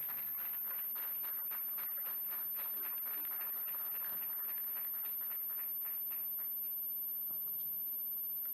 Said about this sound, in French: aidez-moi à accueillir sous ce pupitre le coach Kalis Mikala Mutinga sous vos applaudissements s'il vous plaît